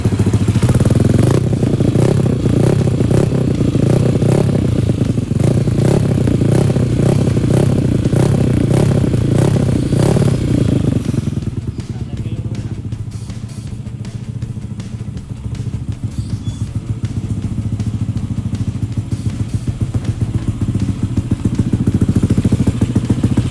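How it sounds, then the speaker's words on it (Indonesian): Yamaha Aerox scooter engine running close by with a loud buzzing drone and mechanical clatter, then dropping to a quieter idle about halfway through before rising again near the end. "Kita tes sound sebentar kayak gimana suara dari motor Aerox ini."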